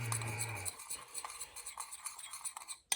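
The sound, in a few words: mixing seasoning together in a bowl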